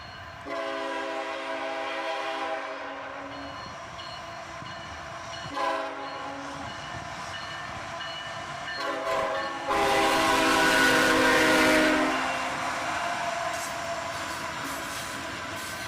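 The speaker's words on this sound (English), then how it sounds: "a triple unit lash-up with an AC44CW and YN2 paint on the front and an EMD trailing third of 3" Freight train led by a GE AC44CW in YN2 paint with a trailing EMD unit in a three-locomotive lash-up, a loud sustained rumble and rolling rail noise building as it passes, with a louder surge near the end.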